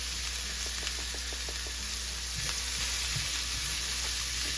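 Flour fries in olive oil for a quick roux, a steady close sizzle with soft scraping stir strokes and small clicks running throughout, no talking.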